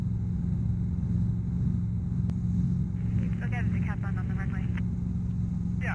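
A Robinson R-22 helicopter's engine and rotor make a steady low droning rumble with a strong tonal hum during an autorotation training flight, continuous from start to finish while voices talk over it.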